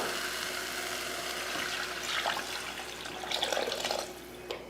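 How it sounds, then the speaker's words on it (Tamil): Tamarind water pours and splashes into a pot, quiet at first and then gurgling more strongly for a few seconds. "இப்போ புளி தண்ணி சேர்த்துடலாம்"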